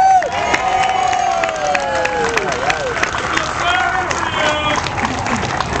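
An outdoor Tea Party rally crowd in San Francisco cheers and applauds for Sally, a steady roar of shouts, whoops and clapping that holds for several seconds.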